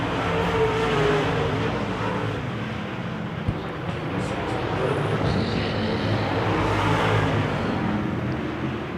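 Wissota Modified race cars lapping a dirt oval track, a continuous loud roar of engines rising and falling as cars pass, with a fuller surge near the end.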